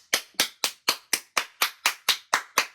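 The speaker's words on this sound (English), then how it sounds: "Clap it up for Spirit" Eleven sharp hand claps in a steady, even rhythm, each a crisp close smack with a quick decay, heard alone with no other sound.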